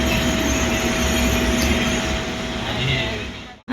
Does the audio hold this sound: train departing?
yes